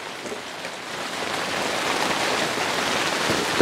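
Steady rain pattering down on a vegetable garden of leafy greens like bok choy, spinach and small lettuces, a dense, even hiss that swells slightly and holds without pause.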